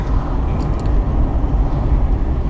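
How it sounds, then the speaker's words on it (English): A cheap old car with overdrive, its engine revving loudly after a manual downshift, a dense steady roar filling the cabin with no voices. "So what if I downshift it manually?"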